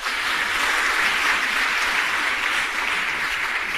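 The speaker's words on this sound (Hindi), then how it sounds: "अगर आपको गौरव लगे तो ताली बजाना" An audience at a Hindi talk on Jain history breaks into dense, continuous clapping that stays loud and even throughout, with no voice over it.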